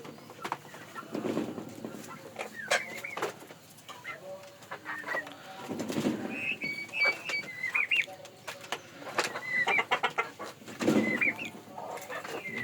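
Fayoumi chickens, laying hens, cluck and chatter nearby in a busy, continuous flock, with occasional higher calls and some talking mixed in.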